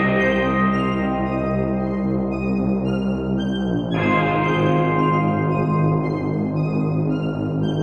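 A CS80 synth string pad treated with distortion, wobble, reverb and a high-pass filter plays sustained, steady chords, shifting to a new brighter chord midway, with a continuous hazy texture.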